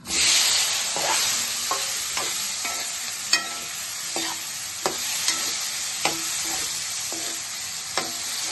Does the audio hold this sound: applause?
no